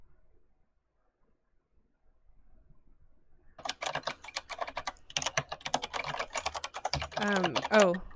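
Rapid typing on a computer keyboard starts after a few seconds of near silence and continues as quick clustered clicks close to the microphone, with a person's voice coming in briefly near the end.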